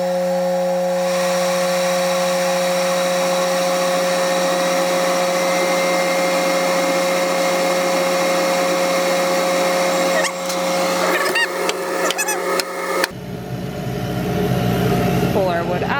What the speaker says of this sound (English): I will show you guys it cutting